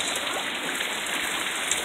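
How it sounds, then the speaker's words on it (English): Heavy rain pours steadily outside a house with a flooding yard, a dense, even hiss with no pauses, close and fairly loud with no talk. "My yard is flooding today because of the rain."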